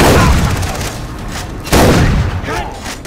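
Shotgun fire in the video game Far Cry 3, two heavy booming blasts a little over a second apart, each with a rolling tail, loud and close.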